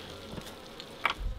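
Honey bees buzz around a beehive at a cabin in summer, a faint, continuous low hum with a brief louder pass near the end and no voices.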